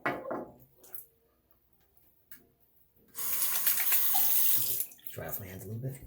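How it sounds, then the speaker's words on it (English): A hot-water tap gushes steadily for a couple of seconds, a bright rushing splash, then cuts off; quieter handling noises come before and after. "Now let me go ahead and add some hot water here."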